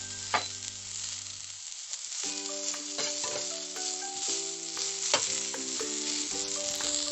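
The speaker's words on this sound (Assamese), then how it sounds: "আৰু এনেকৈ অকণমান লৰাই ফ্ৰাই কৰি থাকিম।" Silkworms fry in a pan for a crispy Assamese dish, giving a loud, steady sizzle close by, broken by the scrape and clatter of stirring now and then.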